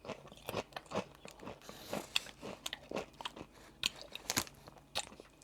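Someone eats Kettle Honey Dijon Mustard crisps close to the microphone, giving a series of sharp, irregular crunches and bites with chewing in between.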